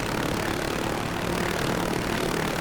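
A light OH-6A helicopter in the DCS flight simulator sends out a steady, dense rotor and engine roar that stays loud and even the whole time, with no talk over it.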